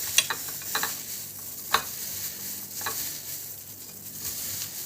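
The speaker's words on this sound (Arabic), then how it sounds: "اول حاجه احط التوابل دي هنا كده على البصل. نبدا ندعك البصل كده مع بعض." Onions with salt, cumin, pepper and seven-spice mix being stirred in a pan for a baked zucchini dish, giving a soft continuous sizzle broken by a few scraping clicks of the utensil.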